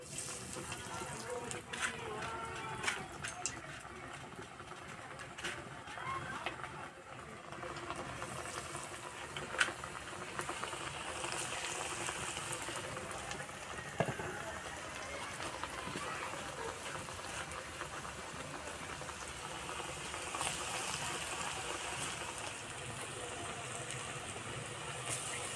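Battered cauliflower pieces frying in hot oil over medium heat, a faint continuous bubbling sizzle holding steady throughout with a few small pops and no speech.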